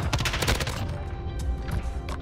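Rapid M13 assault rifle gunfire in Call of Duty: Modern Warfare, a dense continuous burst of loud game shots with no talk.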